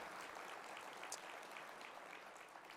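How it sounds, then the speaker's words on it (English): Applause from an audience at a downtown Sacramento civic event honoring people seated on the city council dais, a steady, fairly faint patter of many hands lasting the whole stretch with no talk over it. "Come on, that's worth a major clap."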